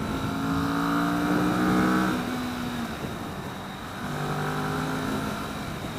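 A 2015 Kawasaki Vulcan S motorcycle pulling hard at full throttle in first gear, its engine note climbing steadily, dipping briefly at a shift, then rising again, loud and continuous.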